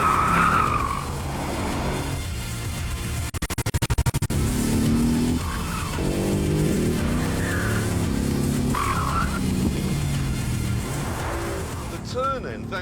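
A Mercedes-AMG GT R is driven fast through corners on a track, its engine roaring steadily with rising and falling revs and brief tyre squeal, under continuous talk.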